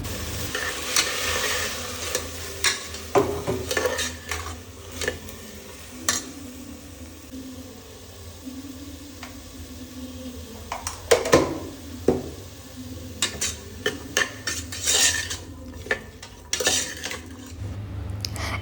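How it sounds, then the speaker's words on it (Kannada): Vegetables fry in hot oil in a home kitchen for a Sankranthi festival meal, a low continuous sizzle broken by scattered scraping and clinking of a spoon against the pan, fairly quiet and close. "ಇದೆಲ್ಲ ನೀಟಾಗಿ ಫ್ರೈ ಆದಮೇಲೆ ತರಕಾರಿಗಳೇನಿದೆ ಅದನ್ನು ಕೂಡ ಎಲ್ಲ ಹಾಕ್ಕೊಂಡು ಚೆನ್ನಾಗಿ ಒಂದು 2 ಮಿನಿಟ್ಸ್ ಚೆನ್ನಾಗಿ ಫ್ರೈ ಮಾಡ್ಕೊಳ್ತಾ ಇದ್ದೀನಿ."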